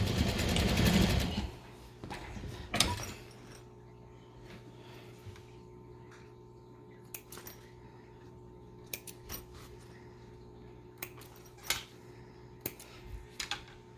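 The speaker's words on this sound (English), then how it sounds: "And I do just backstitch over the zipper." Sewing machine backstitching over a zipper on an embroidered poop bag holder: a short loud burst of rapid stitching, then quiet hum with scattered sharp clicks and taps as the fabric is handled.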